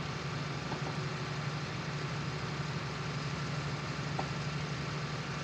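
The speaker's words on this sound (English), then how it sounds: "brand new tractor, 68 reg. The newest tractor on the farm." In the Farming Simulator 19 game, a brand new tractor engine idles with a steady, low, quiet rumble that carries on evenly throughout.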